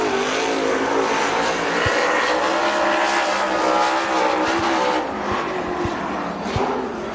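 A Super Late Model race car laps Dixie Speedway, its engine roaring loud and steady with a pitch that rises and falls as it passes, and no voices are heard.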